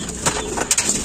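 A racing pigeon, a checkered bird, gives soft coos close by in a short burst of a few brief calls.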